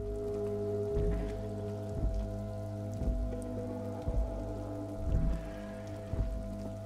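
Rain patters steadily in the video game Disco Elysium over a low, sustained musical drone, with soft periodic thumps every second or so.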